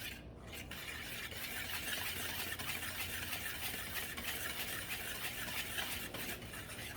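Dry baking powder, cocoa powder and flour are stirred together in a bowl for a fake Black Forest cake. The stirring makes a faint, continuous scraping and whisking that runs evenly throughout, with no talk.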